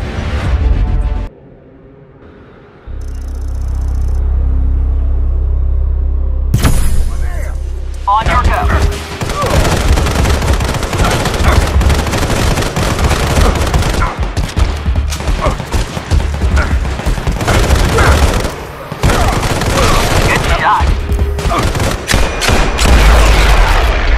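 Assault rifle gunfire in the mobile shooter Sniper Fury erupts after a quiet start, dense continuous shots and impacts with game effects, under intermittent voice lines.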